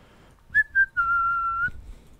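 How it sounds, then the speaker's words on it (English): A person whistles a short tune alone: two quick rising chirps followed by one long, steady sustained note, close and clear over faint background noise. "Yeah, I just whistled in a let's play."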